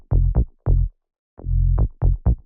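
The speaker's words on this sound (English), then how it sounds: "The bass line on its own sounds like this." Synth bass line for a minimal house track, heard alone with no drums: short bouncy low notes in a syncopated, funky pattern with gaps between phrases, close and dry.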